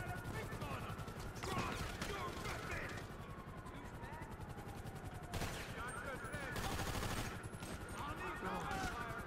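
Video-game gunfire rattles through a police shootout, with dense bursts of shots, rapid fire and explosive blasts going almost without pause. Speech sounds loosely mixed in.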